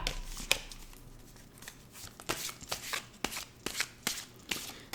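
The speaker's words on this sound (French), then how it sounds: "Maintenant, on va tirer une carte de celui-ci." Tarot cards are shuffled and drawn by hand, producing a quiet run of crisp riffling flicks and soft slaps that quicken in the second half, close up with no voice.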